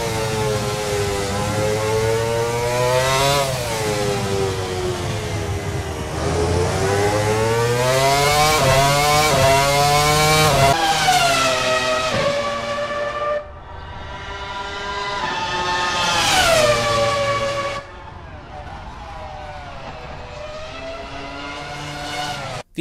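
McLaren MP4-20 Formula One car with a V10 engine screaming at high RPM, a loud, piercing whine climbing through several gear changes and sharp shifts, with brief lifts and a final fade, no voices.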